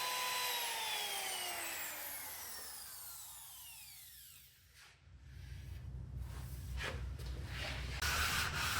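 A sweeping whine fades out, then steady rubbing and sanding on a wooden chess board takes over, continuous and fairly close.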